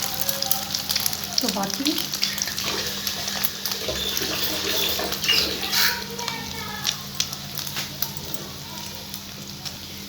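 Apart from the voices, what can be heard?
potato finger snacks frying in oil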